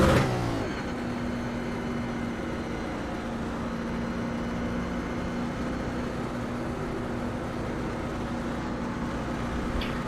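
A NASCAR 1987 Legends stock car in iRacing at Chicagoland holds a steady engine drone at constant revs after a brief opening burst, a sustained mid-pitched hum with no talk over it.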